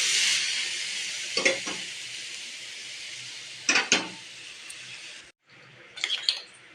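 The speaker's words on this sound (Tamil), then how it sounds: "பால் விட்டுட்டு ரோஸ்ட் பண்ணுங்க." Bread roasting with ghee and milk in a hot pan sizzles steadily and close, broken by a few sharp spatula scrapes and a brief cut-off before the frying hiss resumes.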